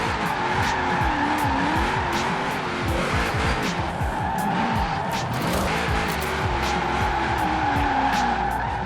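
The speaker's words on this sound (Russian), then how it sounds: "Постановка с клатча" In Forza Horizon 4, a car is set into a drift with a clutch kick, producing a long, loud, sustained tire squeal over a roaring, fluctuating engine, with no speech.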